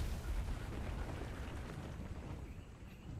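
Rumbling, continuous booming of explosions in the modded video game Ark, dense and low, steady in loudness and slowly easing off, with no voices.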